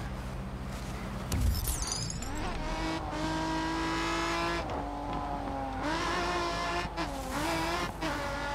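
An off-road car racing in the video game Grid 2, its engine revving and shifting through gears with tires squealing and skidding, loud and continuous with changing pitch and no talking.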